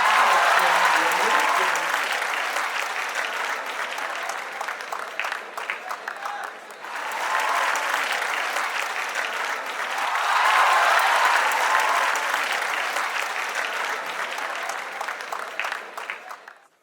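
Hall audience at a Bihar development forum claps loudly for honored guests, including an industry minister; sustained crowd applause swells, dips briefly midway, then builds again before fading out.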